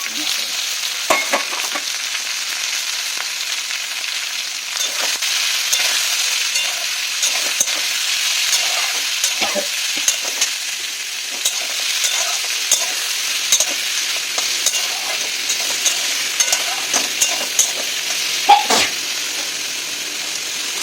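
Eggplant and potato pieces fry in a generous amount of oil, giving a steady, close sizzle throughout with occasional soft stirring clicks.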